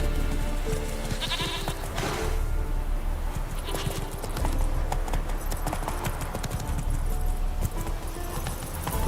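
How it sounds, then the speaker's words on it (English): Horse galloping in The Witcher 3 video game, rapid hoofbeats clopping steadily under a busy layer of game sounds and music, moderately loud throughout. "Run, Roach"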